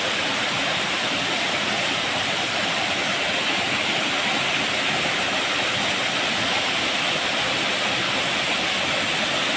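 Pangpang Falls in Barangay Camoroboan, Jiabong, Samar roars with a loud, constant rush of falling water, a dense unbroken wash of noise with no voices.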